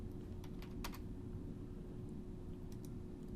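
Keyboard shortcuts tapped on a computer keyboard while modeling in SketchUp: a few quiet, close clicks, a quick cluster early on and two more near the end over a steady low hum.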